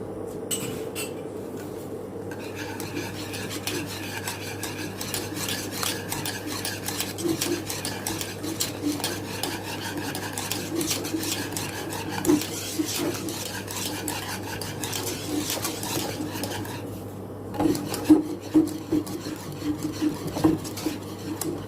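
A utensil stirs a fruit-tart mixture, with butter added, in a pan over gas, scraping and clinking against the pan in a steady, close rhythm and picking up briefly near the end.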